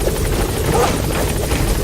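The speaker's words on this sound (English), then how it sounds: "I'll send a chopper." A helicopter arriving in a Metal Gear video game makes a loud, constant rotor drone with rhythmic chopping throughout, and no voices.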